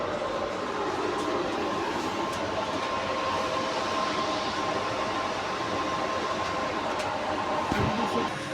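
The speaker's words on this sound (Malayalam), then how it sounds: "നമ്മൾ വന്ദേ ഭാരതിനകത്ത് കയറിയിരിക്കുകയാണ്." Inside a moving Vande Bharat Express train: a steady, close cabin rumble and rolling noise runs throughout with a faint hum, and no one speaks.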